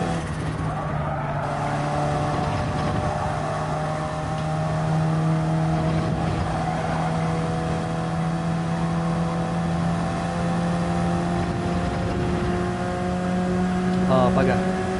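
Race car engine held on throttle in Gran Turismo 7, a steady sustained drone with a strong harmonic whine running the whole time, loud and close, with a voice talking over it.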